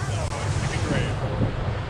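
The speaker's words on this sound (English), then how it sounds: "it is, is so windy" Heavy wind buffets and roars against the microphone on a freezing, overcast day at a theme park, a loud continuous rumble with gusty swells, and faint voices may be buried underneath.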